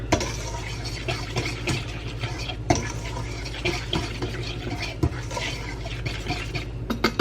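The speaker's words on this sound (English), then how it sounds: "Alright, so now I need to whisk this together." Batter for Amish friendship bread being whisked in a bowl, a steady close scraping and swishing rhythm with occasional sharper knocks of the whisk against the bowl, no one speaking.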